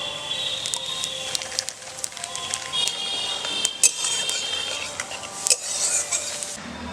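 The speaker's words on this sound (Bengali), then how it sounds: "আমি গোটা গরম মশলা ফোড়নে দিচ্ছি, আর দিচ্ছি 1 চামচ সাদা জিরে, 1 চামচ মৌরি আর 2টো শুকনো লঙ্কা।" Whole garam masala, cumin, fennel and dried chillies sizzle and crackle steadily in hot oil, with scattered sharp pops and a few light clinks of a utensil against the pan.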